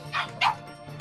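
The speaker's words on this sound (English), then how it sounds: "Your puppies are being picked up on the mic, yeah." Two short, sharp yips from real puppies in the room during a Super Smash Bros. Brawl gaming session, picked up by a nearby microphone, with faint background noise between them.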